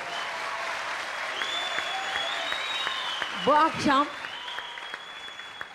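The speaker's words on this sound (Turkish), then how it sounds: "Çok teşekkür ederim alkışlarınıza" Studio audience applause on a Turkish TV entertainment show, a steady wash of clapping running throughout under a voice and music, with a brief louder spoken phrase near the end.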